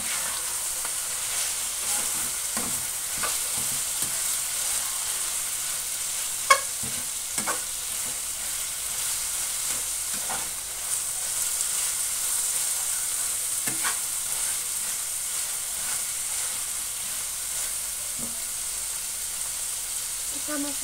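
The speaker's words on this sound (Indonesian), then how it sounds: "Kita aduk dulu ya." Fried rice with salted vegetables and dried shrimp sizzles steadily in a pan while a utensil stirs it, with soft scrapes and taps over a constant close frying hiss; faint speech sits in the background.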